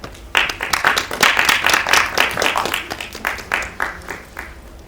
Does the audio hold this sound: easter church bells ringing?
no